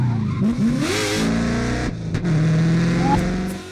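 Turbocharged car engine revving hard during a handbrake drift, rising and falling pitch sweeps with a brief dip then a sustained high rev and faint tire noise.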